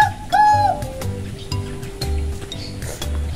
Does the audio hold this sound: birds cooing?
yes